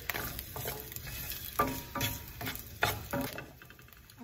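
Thinly sliced garlic sautéing in oil: a close, crackling sizzle broken by clinks and scrapes of stirring in the pan, with no talking.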